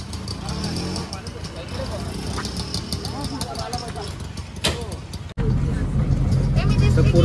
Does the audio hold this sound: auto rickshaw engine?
yes